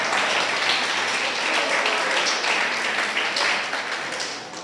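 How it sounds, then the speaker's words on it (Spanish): A church congregation applauding: a steady wash of many hands clapping at moderate distance, continuous and fairly even, easing slightly at the close. "dense un aplauso porque están metidos en la enseñanza"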